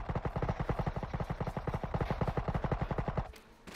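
Automatic gunfire in the PUBG video game rattles in a fast, steady burst of evenly spaced shots, loud and close, before cutting off abruptly into quiet.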